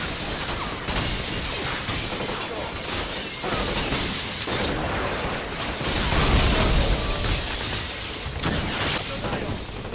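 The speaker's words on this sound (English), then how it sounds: "Personally, my favourite is the missile launcher. As you will see in a minute, because you can literally blow up buildings." A missile launcher blows up a building in the Xbox shooter Black: a dense, continuous roar of explosions, shattering debris and crumbling masonry, loud and sustained throughout.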